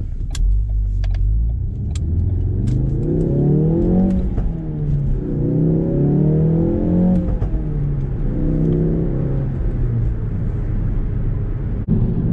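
A car engine in a racing simulator game revs up through repeated accelerations, each rising whine climbing in pitch before dropping at a gear change, loud and close with no talk.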